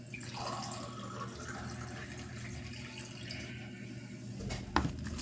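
Water runs and splashes steadily into a container as liquid is poured for a 1 kg batch of donut bread dough, with a brief louder splash near the end and no talking.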